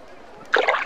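A short watery splash from placing water in Roller Coaster Tycoon, a sudden burst of sloshing that rises abruptly after a quiet moment and fades within half a second.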